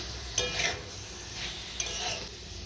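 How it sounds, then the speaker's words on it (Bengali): A spoon stirs fried potatoes and spices in a pan of hot oil, giving soft scraping strokes over a steady faint sizzle, quiet and close, with no talking. "আলুগুলো দিয়েও একটু নাড়িয়ে চাড়িয়ে নেব, যাতে মশলা পুড়ে না যায়।"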